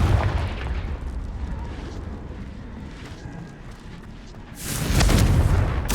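The Confringo fire spell in Hogwarts Legacy goes off as a loud, booming blast with a rumbling tail, then a second explosive burst hits near the end.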